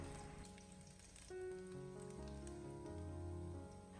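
Ginger slices stir-frying in a hot wok give a soft, continuous crackling sizzle, heard faintly under background music with no talking.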